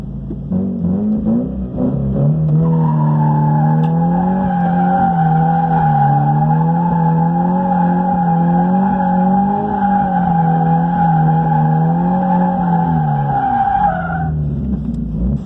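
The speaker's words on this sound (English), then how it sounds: "We'll see what this Mustang can do on the skid pad." A Ford Mustang skids around a skid pad, its tires squealing in a loud, sustained, wavering howl over engine drone for about twelve seconds before cutting off.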